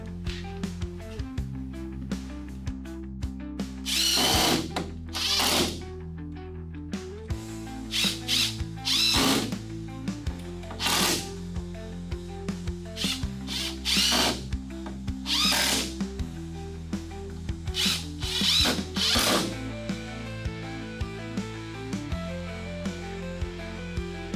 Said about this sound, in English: we're going to drill some pilot holes here for our screws